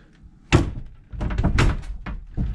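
Door of a full-height teardrop camper pod, loosely held by two screws, opened and closed: a sharp close thunk followed by knocking and rattling handling sounds, fairly near and loud, with no talking.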